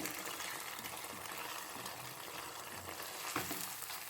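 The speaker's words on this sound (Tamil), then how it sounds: "நட்ஸை சேர்த்து நல்லா மிக்ஸ் பண்ணிடுறேன்" Roasted nuts being stirred into thick halwa in a pan, a faint low sizzle with soft scraping and a brief clink near the end.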